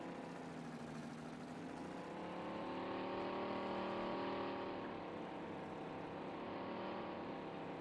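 The engine of an articulated tractor with steering axles drones steadily as it reverses a load of hay bales in Farming Simulator 19, a smooth humming tone that swells slightly midway, with no voices.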